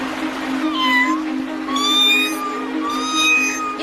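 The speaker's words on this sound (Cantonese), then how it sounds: "求下你哋，快啲救下隻貓仔啊！" A kitten in a cartoon lets out three clear, loud meows in a row, each a rising and falling plaintive cry with short gaps between.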